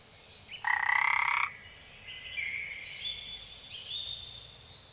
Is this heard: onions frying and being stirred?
no